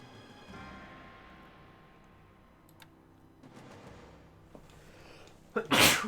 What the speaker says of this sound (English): Excuse me, guys, just had to sneeze.